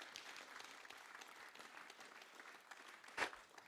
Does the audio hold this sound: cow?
no